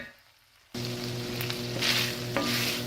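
Chicken browning in a pan bursts into a loud, close sizzle after a brief quiet moment, then keeps crackling steadily with a few sharper pops.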